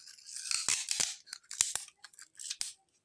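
Close, crisp scissor snips cut through tape in a quick irregular series, with short pauses between cuts and no talking.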